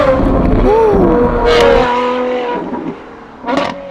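Novitec Ferrari 812 GTS N-Largo with its aftermarket exhaust revving loudly up close, a rising and falling engine whine that settles to a lower idle before a final short blip.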